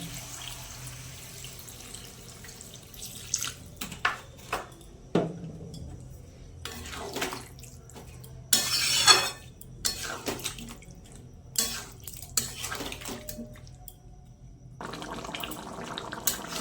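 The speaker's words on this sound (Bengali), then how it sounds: "এবার জল দিয়ে দেবো।" Water poured into a pot of jackfruit curry, with intermittent splashing and pouring bursts, clinks of utensils against the pot and short pauses between pours, no speech.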